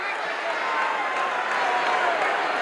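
Wrestling arena crowd at a 1979 tag-team title match, a steady roar of cheering and clapping that stays loud and continuous throughout.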